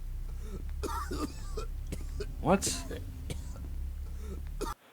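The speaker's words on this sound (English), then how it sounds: "That coughing is going to get annoying" A brief throat-clearing cough cuts through ongoing talk, loud and close, with a short spoken question nearby.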